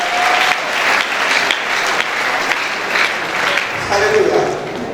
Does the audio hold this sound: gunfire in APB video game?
no